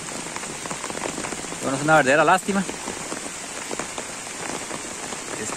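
Heavy rain pours during a fishing trip, a steady close patter of drops on surfaces that continues throughout while someone speaks briefly over it.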